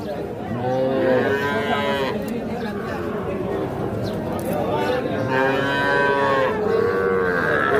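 A four-month-old Sahiwal bull calf moos loudly and close by, two drawn-out bellows separated by a pause, while people chatter in the background at a cattle market.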